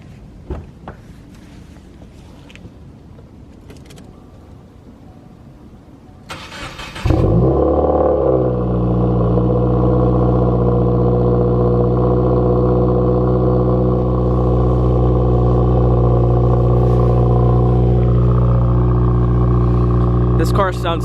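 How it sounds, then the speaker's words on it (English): Subaru WRX with a muffler delete fires up from cold at about seven seconds, a sharp crank and catch settling into a loud, steady, rumbling idle that holds to the end; faint handling noises come before it. "You can't start a video without a cold start."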